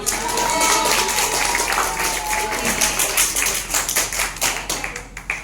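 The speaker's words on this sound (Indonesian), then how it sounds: "tepuk tangan untuk kita semua" Classroom applause from a group of students, a steady dense patter of many hands clapping at close range, continuing throughout and thinning slightly toward the end.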